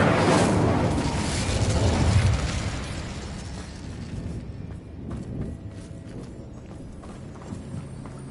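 An Incendio fire spell explodes in Hogwarts Legacy, a loud burst and fiery roar at the start that fades into lighter crackles and scattered thuds over the following seconds.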